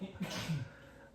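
A single short, muffled sneeze, fairly close and quiet, followed by a brief trailing breath.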